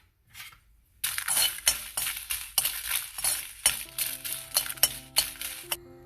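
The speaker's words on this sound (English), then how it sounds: "Now we'll fry these red chilies." Red chilies are stirred in a pan while Andhra-style podi is being made, with repeated close clinks and scrapes of a spoon against metal over a soft, steady sizzle.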